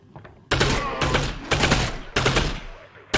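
Video game gunfire comes in repeated loud automatic bursts of roughly half a second each, with brief gaps between them, close and dominant.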